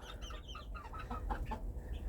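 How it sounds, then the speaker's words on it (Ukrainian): Hens cluck and squawk in quick, agitated bursts, fairly faint, over a low background hum. "О, курка там свариться."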